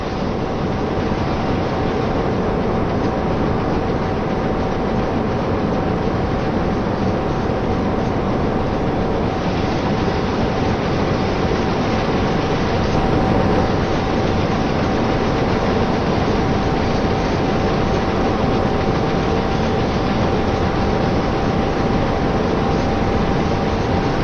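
A DB 155 electric locomotive running in Train Sim World 4, heard as a loud, steady rail roar with a constant electric whine, even and unbroken, with no voices over it.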